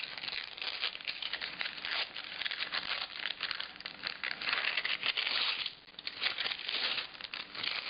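Paper is peeled and crinkled off a surface for several seconds, a continuous rustling and tearing with small crackles that ebb briefly near the middle before resuming.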